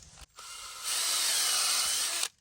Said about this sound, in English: So let's drill one right now and show you what it looks like